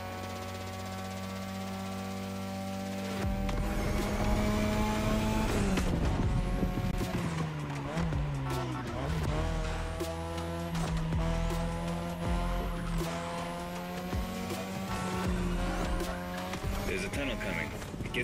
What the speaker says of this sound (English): Tonight, your ride is a third-gen 2002 Mazda RX-7. Lightweight, compact, a sick rotary engine, and one hell of a look.